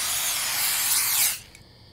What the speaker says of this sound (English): Oh, rat spray.